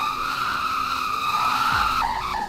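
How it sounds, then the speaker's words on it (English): Continuous tire screech from a car spinning donuts in the Roblox game Greenville, loud and sustained, with the pitch wavering and dropping near the end as the spin shifts. "and it can do donuts as well"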